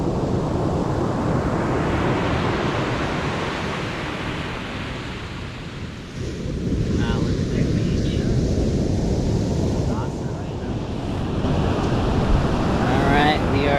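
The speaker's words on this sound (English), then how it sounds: "Alright, we are at Wildcat Beach." Wind and ocean surf at Wildcat Beach, Point Reyes, make a steady, broad roar of breaking waves mixed with gusty microphone buffeting, dipping briefly midway before swelling again.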